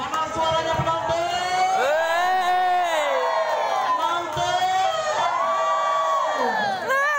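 A grand-final crowd at an indoor sports match cheers and whoops loudly and steadily, with shrill youthful shouts rising and falling over a continuous roar of voices.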